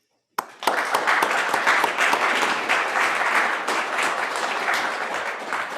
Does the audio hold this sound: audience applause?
yes